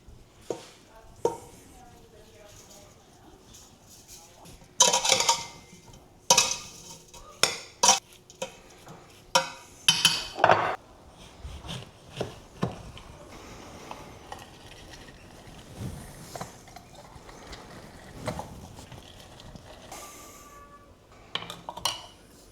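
Mulberries with brown sugar are pressed and mashed in a big pot for jam, making irregular close scrapes, squishes and clanks of utensil on metal, with quieter stretches between bursts.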